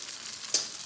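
Tuna pasta in a cream sauce is stirred in a hot pan. A soft, steady sizzle runs throughout, broken once by a short scrape or clink of the utensil.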